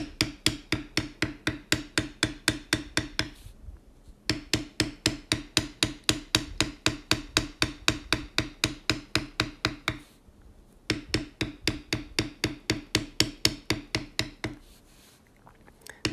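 A metal leather beveling tool is struck repeatedly with a mallet along a pattern line on tooling leather, giving fast, even, close taps in long runs broken by two short pauses.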